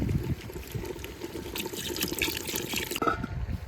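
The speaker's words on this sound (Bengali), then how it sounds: "এবার দিয়ে দেবো জল" Water is poured into a pan of browned mutton curry cooking outdoors by a river, a steady splashing trickle that continues throughout and ends with a brief gurgle, with no voices.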